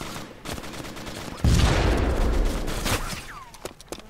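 Gunfire in the ARMA 2 video game during a battle around a church, a burst of crackling shots that swells into a heavy roaring volley midway and then fades, with a few scattered reports after it.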